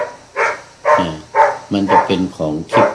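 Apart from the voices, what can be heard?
dog barking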